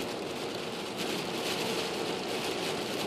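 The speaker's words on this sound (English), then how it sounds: "You folks are hearing that rain come down" Heavy rain from Hurricane Sandy pours down steadily in Ocean City amid strong winds, a dense, continuous wash of noise with no pauses.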